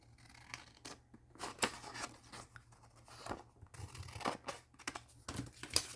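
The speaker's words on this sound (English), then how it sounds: "I'm just going to cut out this piece." Scissors cutting a piece from a folded paper envelope for a junk journal folder: a series of crisp, irregular snips and paper rustles, close and distinct, with no talking.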